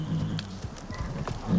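Horse in the video game Icarus on hardest mode, attacking with a short run of hoof clip-clops and a snorting whinny, loud and close.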